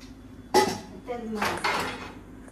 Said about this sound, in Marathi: भांडी पाडतोय काय